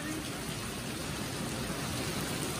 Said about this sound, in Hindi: मनाली वाली बारिश आ रही है।